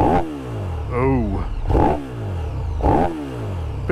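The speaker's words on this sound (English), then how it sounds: "bit faster revving, bit more angry sounding than the GT." A KTM 1290 Super Duke EVO motorcycle engine revs in repeated sharp, rising blips, loud and close, with a rough, angry mechanical tone between bursts.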